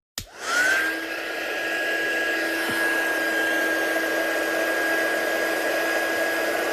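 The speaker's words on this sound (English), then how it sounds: "We'll bring in our heat gun again" A heat gun blows steadily and loudly over loose powder after a sharp click switches it on, its airy roar carrying a high, constant whine throughout.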